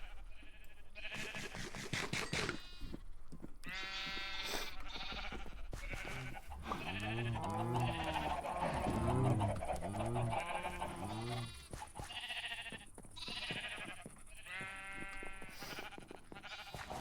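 Sheep in the Ancient Kingdoms video game bleat repeatedly and fairly close. Several overlapping calls come in bursts across the whole stretch over a low background hum.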